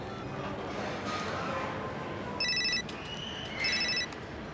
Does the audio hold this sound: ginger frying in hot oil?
no